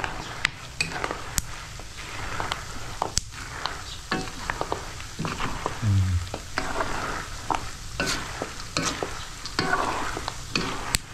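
Food frying in a pan hisses and sizzles steadily while a utensil keeps stirring it, scraping and clinking against the pan in close, irregular strokes throughout.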